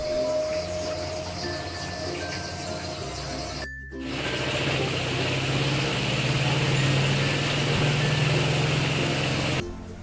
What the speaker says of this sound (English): let's look how the washing machine vibrates